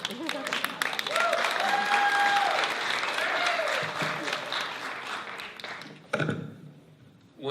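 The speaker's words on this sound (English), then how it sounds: "feel free to applaud" Audience applause at the close of a gubernatorial candidate forum, a sustained wash of clapping from a crowd for about six seconds with some voices mixed in, then a brief burst of noise as it fades.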